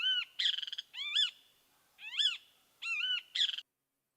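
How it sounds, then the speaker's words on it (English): Great kiskadee calling: a series of loud, clear, harsh two- and three-part whistled calls with gaps between them, close and alone with no background noise. "And here's the great Kiskadee."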